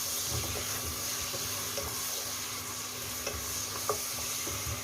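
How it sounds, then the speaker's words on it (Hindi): Goat meat and onions frying in a pot, a continuous moderate sizzle with occasional scraping stirs and small pops, heard close with no talking. "बकरे के गोश्त को हमने प्याज के साथ इस तरह फ्राई कर लेना है, ताकि थोड़ा फ्राई हो जाए"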